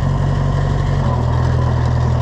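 An Oliver 1250 tractor, a Fiat 415, runs steadily in second gear, its loud diesel engine holding a deep, even drone throughout with a slight shift in pitch partway through.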